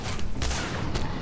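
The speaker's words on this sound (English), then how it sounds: "it's just an explosion" A dense burst of explosion noise in the shooter video game Singularity, a brief loud blast with no speech over it.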